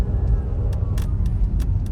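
A black police truck rolls through city traffic with a low, rumbling engine. Its sound is steady and close, and sharp hissing bursts break in now and then, like air brakes from nearby vehicles.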